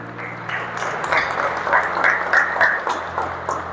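A church seminar congregation applauds in a brisk, steady patter of claps that holds at moderate loudness throughout, with faint voices and low musical tones underneath.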